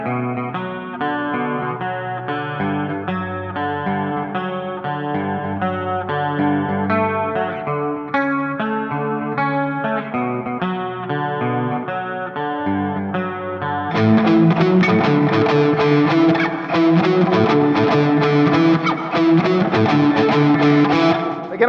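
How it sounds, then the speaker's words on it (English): Distorted electric guitar through a Fractal XFX3 effects unit with a fuzz effect, playing a chugging riff that swells into louder, fuller chords halfway through, loud and alone with no talking. "Fuzz effects in the XFX3 is really like, good."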